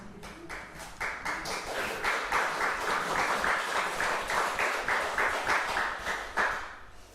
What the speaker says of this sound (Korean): 박수를 3번 받아보긴 처음이에요.